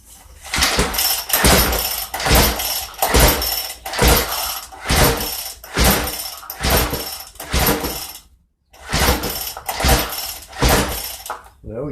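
Someone repeatedly yanks the starter rope on a Cub Cadet SS 470 string trimmer with no fuel in it. About ten sharp, ratcheting pulls come in a steady rhythm, with one brief pause, and the engine never catches.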